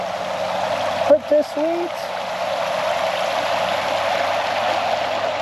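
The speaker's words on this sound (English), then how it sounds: "We got this nice creek by camp." A creek flows past a campsite at about 3,500 feet, a steady, even rush of water throughout, with someone briefly speaking over it.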